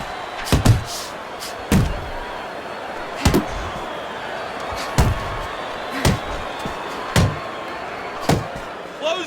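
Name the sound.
uppercut punch landing in Fight Night Champion video game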